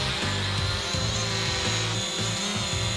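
A drone in flight and coming in to land gives off a steady, close motor buzz with a high whine that holds through the whole stretch, with no talking.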